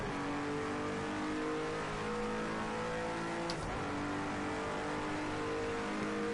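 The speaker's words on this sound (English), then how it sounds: "this car is a turbo, so I might be shifting actually too late." A Cadillac ATS GT3 turbo race car engine in Project Cars 2 drones loud and steady at high revs, briefly dropping pitch around a gear shift before climbing again, with no talk.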